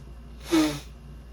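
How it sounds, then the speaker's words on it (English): A single close nose blow or forceful snort, a short breathy burst lasting about a quarter second in an otherwise quiet indoor setting. "Wouldn't be a video without me blowing my nose."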